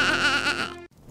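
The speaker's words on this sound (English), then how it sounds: "The wool on the ground led me to the little sheep." A little sheep bleats once in a loud, close, wavering call that lasts most of a second and then stops abruptly, with a faint bit of background sound after it.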